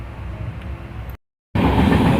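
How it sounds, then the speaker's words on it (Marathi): An express train on the Konkan line near Panvel rumbles at speed with loud, continuous, close clatter and roar, broken by a brief total dropout before the noise resumes even louder. "आता नेक्स्ट स्टेशन डायरेक्ट बरेच फास्ट आहे ट्रेन."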